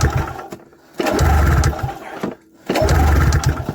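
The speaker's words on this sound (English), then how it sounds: "I'm not really sure why it's not starting" A 1994 VX500 engine cranks over twice in long bursts separated by short pauses, loud and close, never catching and running.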